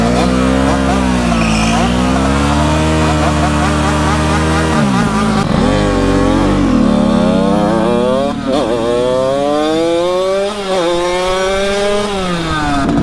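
A gas Surron motorbike revs hard while racing, its engine note climbing and dropping in loud rising sweeps close by, with faint voices mixed under the roar.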